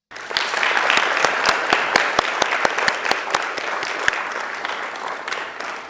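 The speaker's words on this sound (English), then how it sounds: "Please give them a round of applause." Delegates at an ASEAN Regional Forum meeting in Kuala Lumpur break into applause that starts abruptly and stays full, with a few sharp individual claps standing out over the crowd, close and fairly loud.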